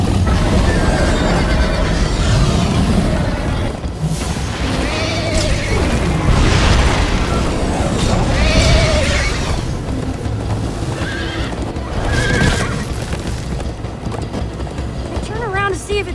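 Horse hooves galloping with a whinny in Minecraft Story Mode, loud and continuous, mixed with game music, booming effects and voices talking over the ride.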